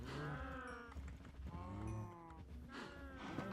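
Several Minecraft cows moo in overlapping, drawn-out calls, fairly loud and close, with a steady game background underneath.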